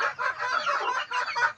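Backyard chickens clucking steadily and close, a dense overlapping chorus of hens and a rooster with no talking.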